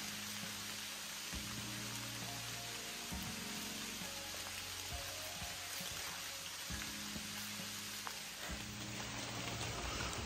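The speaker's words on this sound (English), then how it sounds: "Even though it's raining right now," Rain falling on the Appalachian Trail, a steady faint hiss of drops on surfaces with occasional heavier patters, continuous throughout and no talking.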